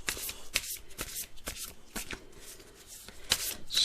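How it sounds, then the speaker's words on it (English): A deck of affirmation cards shuffled by hand, a quick, soft, close run of flicking and sliding card sounds repeating steadily without talk. "Shuffle a little and then I'll do a cut."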